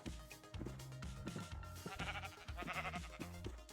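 Sheep bleat in Minecraft over a loud layer of in-game music: several wavering calls in quick succession, with no talking.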